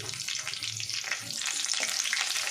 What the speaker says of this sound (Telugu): ఇప్పుడు టైంలో కొద్దిగా కరివేపాకు తీసుకొని ఫ్రై చేసేసుకుందామండి.